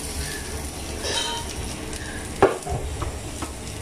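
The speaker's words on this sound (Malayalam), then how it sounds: "നമ്മള് ചട്ടിയിൽ വെച്ചിട്ടുണ്ട് ഫ്രൈ ആക്കാൻ വേണ്ടിട്ട് എന്നിട്ട് നമുക്കൊന്ന് പൊള്ളിച്ചെടുക്കാം" Food fries in a pan with a steady, moderate sizzle. One sharp clink of a utensil against the pan cuts in partway, with light stirring scrapes after it.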